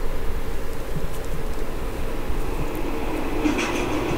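A train rolling past in Grand Theft Auto 4, a dense continuous rumble with rattling wagon noise held steady and loud throughout, rising brightness of squeals near the end.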